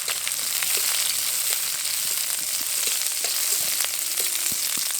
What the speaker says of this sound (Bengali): এবার দিয়ে দেবো ক্যাপসিকাম কুচি।